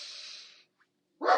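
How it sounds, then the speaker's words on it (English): A dog barks twice, a short broad burst at the start and a louder close bark near the end, with a brief faint yip between them and silence around it. "Oh, that dog."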